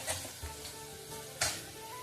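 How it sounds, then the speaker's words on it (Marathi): Tomatoes frying in oil with a little butter in a home kitchen, a soft steady sizzle broken by a couple of sharp crackles and spatula stirs, close and clear with no talking. "त्यामध्ये आता डायरेक्ट मी टोमॅटो दोन्ही एकसाथ परतून घेणार"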